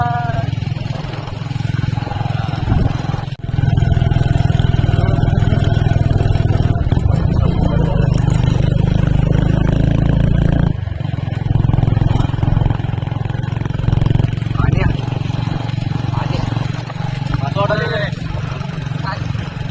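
A motorcycle fitted with a new silencer idles and revs nearby with a loud, continuous low rumble, swelling and easing through the run, while people talk over it.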